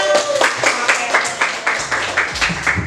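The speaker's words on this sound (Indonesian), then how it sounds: "Tepuk tangan untuk kelompok 4." A classroom group in Indonesia claps for group 4, short bursts of hand claps landing in a quick, steady rhythm for about three seconds, close and fairly loud.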